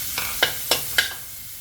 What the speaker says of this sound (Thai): พริกแดงจินดากับกระเทียมนะคะ ลงไปผัดค่ะ